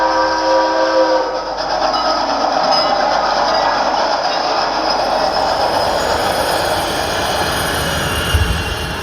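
A train rumbles loudly along the rails in the soundtrack of a laser show, with continuous clattering and squealing wheels and a whistle-like tone.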